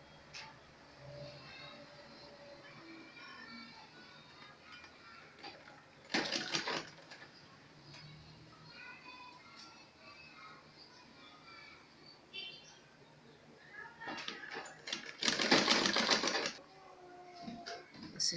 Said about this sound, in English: now the inner part, and I'm going to sew it